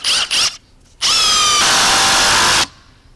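A RIDGID Octane cordless impact driver on its second, medium-speed mode makes two short bursts of whirring, then a loud, sustained hammering buzz of about a second and a half, close by and alone.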